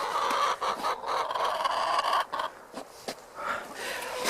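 Hens in a winter coop clucking and murmuring in a steady, close chorus, with a few short louder squawks breaking through.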